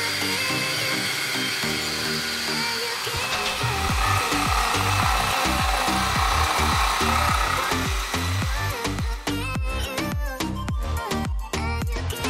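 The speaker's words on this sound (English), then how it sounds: "First, I mark areas to be removed with tape, and then cut it out with a grinder and jigsaw." A grinder and jigsaw cut marked sections out of a handmade Ford GT40 scale model body, with a loud continuous abrasive whine that gives way to rapid rhythmic jigsaw chatter, close and steady.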